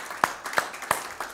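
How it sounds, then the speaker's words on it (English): Hand claps from a church congregation ring out in a slow, even beat, three or four distinct claps, close and fairly crisp, over a low room murmur. "Give the Lord a hand clap this morning"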